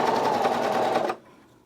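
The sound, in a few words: serger sewing over elastic in t-shirt shoulder seam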